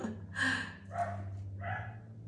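Dogs bark indoors in three separate, fairly loud barks spread over a couple of seconds, backed by a steady low hum, with no talking.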